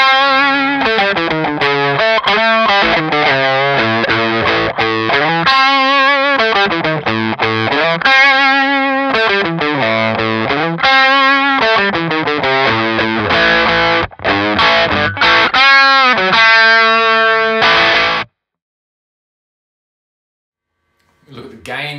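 Electric guitar played through a Red Witch Nonpareil pedal, a long run of quick melodic notes and bends with a bright, gritty edge, loud and up close, ending abruptly in silence before a faint final pluck.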